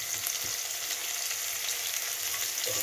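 Ginger and garlic frying in hot oil in a pan, a loud, steady sizzle with occasional crackles and the scrape of stirring.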